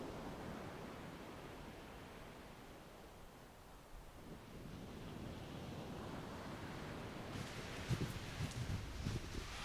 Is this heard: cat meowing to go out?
no